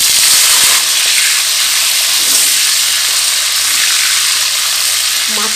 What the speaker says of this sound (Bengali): আর এই তেলের মধ্যেই আমি দিয়ে দেব কেটে রাখা আলুগুলো।